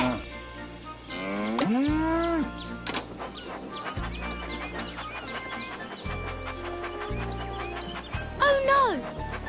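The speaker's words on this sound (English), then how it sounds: "Sheep have wandered onto the tracks." Sheep bleating on the tracks in a colourful kids' train video game, a few drawn-out cartoonish bleats with bright game music and sound effects, alongside a voice speaking.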